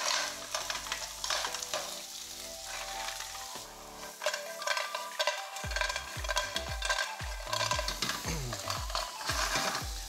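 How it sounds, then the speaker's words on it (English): Clams tossed into a hot pan of olive oil, butter, chili, tomatoes and chorizo for clams linguine, sizzling loudly with repeated stirring scrapes and shell clatter throughout, no talking. "So I'm going to add the clams now."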